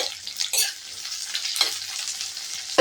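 Small shallots and garlic cloves sautéing in a pan for mutton kulambu, with a few bursts of sizzling and scraping stirs over a quiet background, brief and close.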